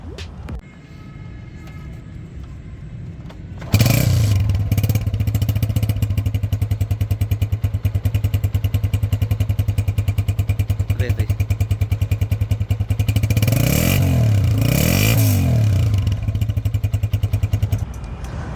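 A 2009 Honda 125 motorcycle with an AHL 3 silencer starts up and idles with a loud, steady thumping exhaust beat, briefly revving twice near the end.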